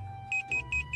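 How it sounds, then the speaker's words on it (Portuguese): Electronic alarm in the video game GTA RP, a bugged alarm that keeps sounding nonstop: three quick, shrill beeps in steady rhythm over a low constant hum, fairly faint. "O alarme é bugado, não para."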